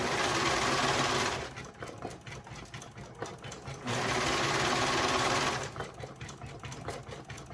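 A Brother 1034D serger sewing machine runs fast in loud, steady whirring bursts, pausing briefly between stitched runs, close up with no talk.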